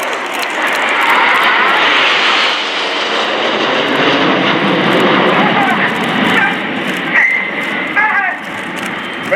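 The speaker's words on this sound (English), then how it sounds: "Jets arriving in big battle formation around 20 feet apart" RAF Red Arrows jets roar overhead in close battle formation, a loud, continuous engine rush that swells and holds for several seconds, with a voice talking over it.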